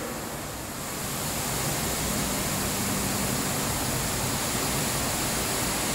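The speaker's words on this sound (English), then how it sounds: "Sorry about the fan, y'all." An electric fan runs loudly in a room, producing a steady broadband whoosh that fills the whole stretch without pause, with no voices over it.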